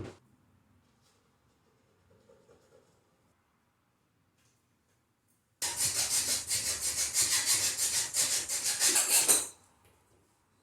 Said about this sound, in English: I'll be using a hacksaw for this, a junior hacksaw, just to minimise any splintering or damage to the wood